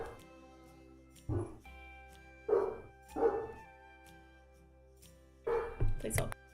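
Several dogs bark at an arriving package in a series of sharp, loud bursts, some doubled, with quiet gaps between them and a faint hum underneath.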